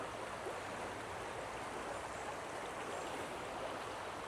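The Credit River flows past a wooded property, a steady, even rush of water that stays constant and moderately close throughout, with no voices.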